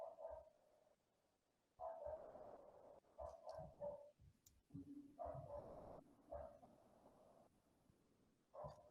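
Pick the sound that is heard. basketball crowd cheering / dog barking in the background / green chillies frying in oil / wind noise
dog barking in the background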